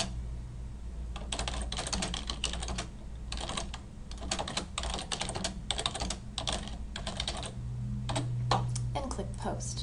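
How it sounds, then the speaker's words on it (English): Rapid clacking of keys on a computer keyboard, close and steady, in bursts with brief pauses, as someone types a short message. "I just type it in."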